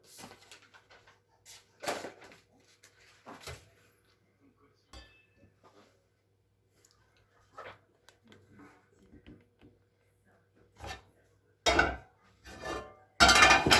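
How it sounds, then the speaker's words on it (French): A frying pan with a little olive oil is handled in a kitchen while making a tartiflette tart: scattered light clinks and knocks with quiet gaps, ending in a few louder bursts of clatter. "on prend une poêle avec un peu de l'huile d'olive"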